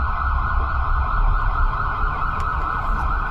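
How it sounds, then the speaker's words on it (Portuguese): An ambulance siren passing by, its wail loud and steady with no talk over it. "A ambulância quer passar aqui"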